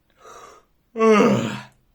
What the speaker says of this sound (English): Now I'm adding also yawning